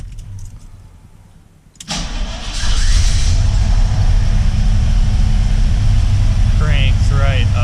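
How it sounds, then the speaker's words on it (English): A car engine cranks briefly after a quiet stretch with a low hum, then catches and settles into a loud, steady idle that runs to the end, with a few faint squeaks over it. "Let's get this thing fired up."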